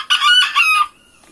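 A rooster or hen in a poultry coop gives one close, loud burst of clucking and crowing lasting under a second, then the pen falls nearly quiet.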